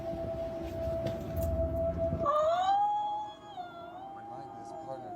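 A long eerie siren-like wail holds one steady tone, then bends into wavering, warbling rises and falls, distant and unsettling, with people talking over it in a scary setting.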